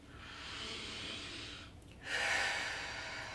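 A single breath drawn in during a slow stretching exercise, a soft airy inhale heard close and alone, with a brief pause before it.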